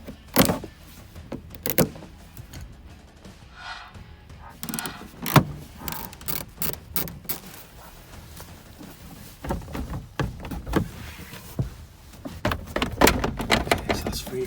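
Plastic pull tabs and bolts being removed from the boot of a 2008 Ford Focus: scattered sharp clicks, snaps and metallic knocks with quiet gaps between, fairly close, with someone talking at times.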